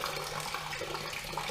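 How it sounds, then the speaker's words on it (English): Water drains from a flooded Prowler's breathing tube onto a shop floor, a steady close rushing flow that holds evenly from start to end. "So that is all the water that was in that breathing tube"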